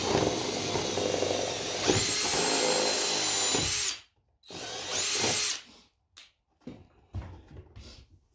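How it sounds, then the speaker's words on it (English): A power drill bores out a hole in a homemade bust built to display a Wookiee mask. It whines loudly and close in a long burst, then a shorter burst, followed by scattered softer knocks and handling noises. "drill out this other one."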